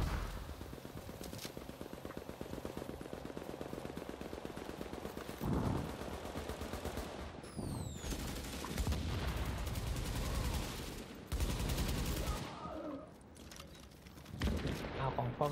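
Automatic rifle fire in the Dark Zone of The Division rattles in rapid bursts, each shot carrying a glitched explosive boom, while people talk over it.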